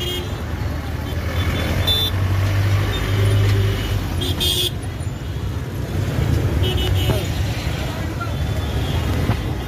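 Small passenger vehicle on a road, a steady low engine rumble and road noise running throughout, with brief horn toots and traffic around it.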